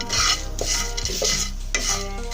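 Pumpkin seeds roasting with cumin powder in a pan, stirred with a spoon in repeated scraping strokes, with soft crackle and sizzle beneath, close and fairly steady.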